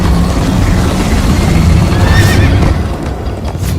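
A horse in the video game Minecraft: Story Mode neighs loudly with a rising whinny over steady galloping hoofbeats and a dense rumbling game soundscape, staying close and continuous throughout.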